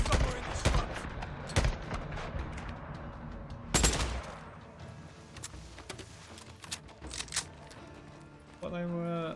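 Gunfire in the video game Days Gone: sharp, irregular shots and short bursts in the foreground, with game noise and speech underneath.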